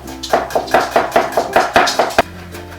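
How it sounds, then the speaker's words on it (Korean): Knife mincing garlic on a cutting board while preparing Korean shiitake pancakes, a steady run of about ten close, crisp chops in an even rhythm, then a pause. "먼저 마늘 다지고요"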